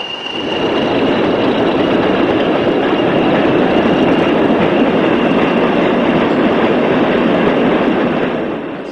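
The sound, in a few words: British Rail Class 40 diesel locomotive hauling freight train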